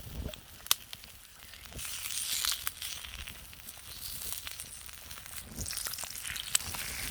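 An egg cooks on a hot rock outdoors, giving a soft, continuous crackling sizzle with scattered sharp pops, faint and steady throughout.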